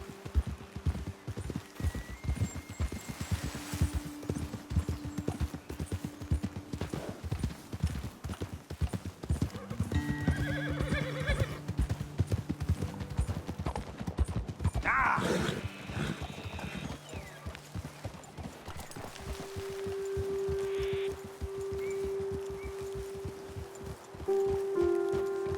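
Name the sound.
horses riding and whinnying in Red Dead Redemption 2 video game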